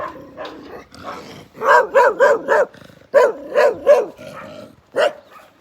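A dog barks repeatedly in quick bursts, loud and close, with short pauses between volleys of sharp woofs.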